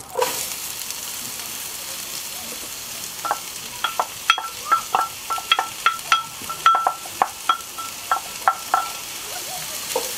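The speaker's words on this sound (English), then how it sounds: "we're going to add the onions that I cut up earlier" Chopped onions stir and sizzle in a Dutch oven, a steady low frying hiss broken by a run of sharp scraping and stirring clicks from a utensil against the pot, close by and moderate in level.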